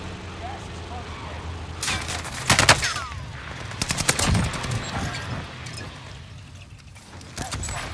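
Gunfire erupts during a Warzone Caldera solo match, with several sharp bursts of automatic shots clustered in the middle against a low game background rumble, a few fainter pops trailing afterward.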